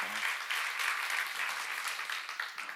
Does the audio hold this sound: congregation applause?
yes